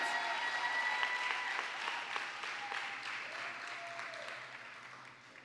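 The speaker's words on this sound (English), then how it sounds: "Let's give a round of applause again for Gina Esquivel of the Lee Institute." Banquet audience at an awards gala applauds an honoree, a full, even wash of clapping that starts strong and gradually tapers, with faint voices beneath.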